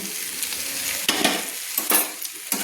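Fried eggplant pieces being stirred into a spiced onion-stalk and potato curry in a pan: a steady close sizzle with a few scraping spoon strokes and soft clatters, no voices.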